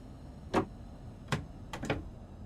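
The power handle of a Southeastern high-speed train in Train Sim World 2 clicks through its notches: a sharp click, another after a pause, then a quick closing pair, all close and crisp over a faint hum.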